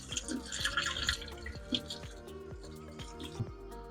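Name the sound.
rinsing boiled potatoes with cold water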